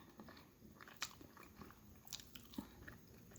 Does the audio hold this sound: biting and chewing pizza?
yes